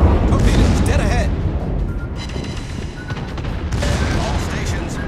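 Naval gunfire in the World of Warships game, with the Tirpitz battleship firing HE shells: a dense rolling barrage of booms and rumbling blasts, loud and close, under a radio-style voice calling out orders.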